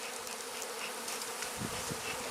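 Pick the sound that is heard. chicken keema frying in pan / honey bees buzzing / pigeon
honey bees buzzing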